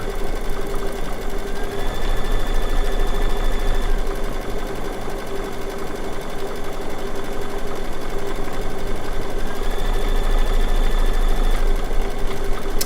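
Baby Lock embroidery machine stitching a circular applique in the hoop, a loud, steady rapid needle chatter with a constant mechanical hum running close and uninterrupted, with a brief pitch shift midway.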